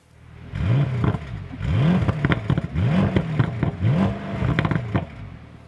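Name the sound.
Bentley Continental GT convertible power windows going up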